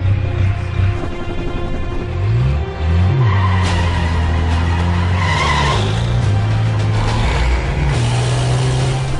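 Race car on a record speed run, loud engine roaring and climbing in pitch as it accelerates, with tire squeal and skidding noise throughout, close and continuous, no talking.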